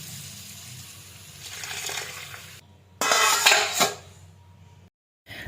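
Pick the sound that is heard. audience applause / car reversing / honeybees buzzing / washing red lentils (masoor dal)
washing red lentils (masoor dal)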